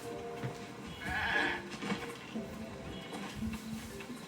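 A white goat in the video game Tears of the Kingdom gives a single bleat of about a second, set over quiet ambient game background sound.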